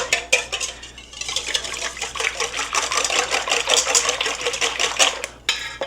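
Six eggs beaten with a whisk in a bowl for a breakfast casserole custard, a steady rapid clatter of wire against the bowl running nearly throughout, fairly close and with no talk.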